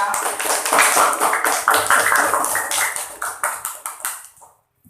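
Children in a classroom clap for a classmate, a brisk burst of many small hands that thins into a few rhythmic claps before stopping.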